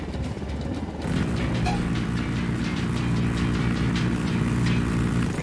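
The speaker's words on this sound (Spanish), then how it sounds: "Se acerca un helicóptero." A helicopter approaches in the Ghost Recon Wildlands video game, a loud, steady engine roar with a rhythmic rotor beat that swells in after a quieter opening second.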